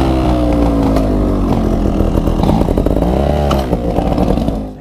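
A trials motorcycle on a wooded trail revs loudly and close, its engine climbing and dropping in pitch through repeated throttle blips before easing off at the end, with no talking.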